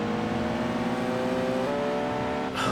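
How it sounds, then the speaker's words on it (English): A car accelerates in the racing video game Tokyo Xtreme Racer 2025, a loud, steady engine drone that rises in pitch and shifts gear near the end, close and alone without speech. "Yeah, even just speeding up."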